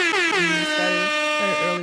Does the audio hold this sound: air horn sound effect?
yes